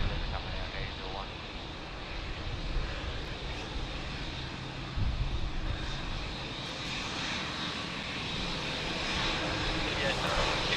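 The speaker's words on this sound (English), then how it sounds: "we get a nice close-up view of Qantas 787." A Qantas Boeing 787 at Sydney Airport gives off a steady, broad jet-engine roar that holds fairly constant throughout, with voices and radio-style chatter over it.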